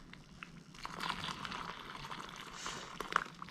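Water is poured into an emergency food pouch, a close, bubbling pour with gurgling and light splashing that fills the bag over a few seconds.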